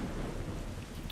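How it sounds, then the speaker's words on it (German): Rain and thunder in Kena: Bridge of Spirits, with a dense, loud downpour hiss under a deep rumbling roll of thunder, steady across the short stretch. "es ist laut, dieser Regen"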